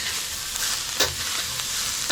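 A fork stirs cornstarch slurry into beef and broccoli in a sizzling pan, giving a continuous frying hiss with a couple of short scraping strokes.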